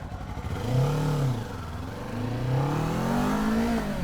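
A Kawasaki Z400 motorcycle engine revs up and down twice, rising and falling in pitch, close and steady with no talking.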